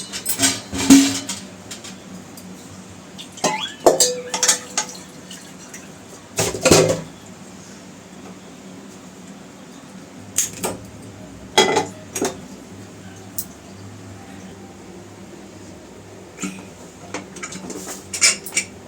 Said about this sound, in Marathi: हे करते मी कांदा वगैरे फ्राय करून घेते पॅनमध्ये